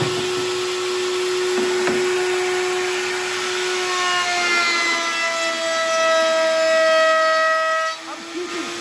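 A router cutting a wooden cheese board, a loud steady whine with shifting tones that holds for several seconds and dips near the end.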